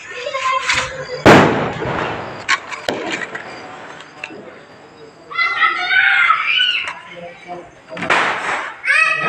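Sharp Diwali firecracker bangs burst out among excited children's voices and shouts, with crackling pops scattered between the chatter.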